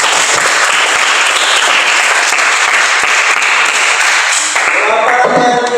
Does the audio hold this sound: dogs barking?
no